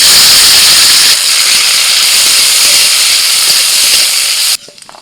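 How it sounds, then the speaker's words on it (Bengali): Cashews and raisins frying in hot ghee in a wok: a loud, steady broadband sizzle that holds for over four seconds, then suddenly drops away to quiet. "ঘিয়ের মধ্যে কাজু কিশমিশটা একটু ভেজে নেব।"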